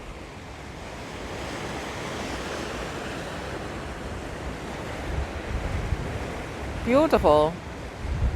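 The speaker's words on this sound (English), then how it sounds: "All the crashing water reminds you just how insignificant you are, really." Waves crash in a rocky gully, a steady broad roar of surf and gusting wind filling the whole stretch, with a brief close voice near the end.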